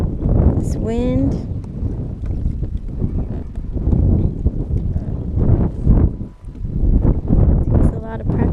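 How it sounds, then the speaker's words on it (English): Steady wind buffets the microphone on a lake while fishing from a kayak with a trolling motor at Lake Hodges, a loud continuous roar filling the whole stretch with faint brief whistling tones over it. "This wind."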